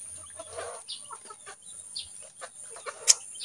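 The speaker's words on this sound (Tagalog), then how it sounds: "Yun yung manok ko." A chicken clucks nearby in short, scattered bursts, with a sharper squawk near the end over a faint high hum.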